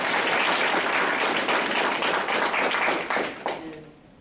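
An audience at a panel discussion claps and cheers for a guest, a dense and steady wave of applause that tapers off near the end.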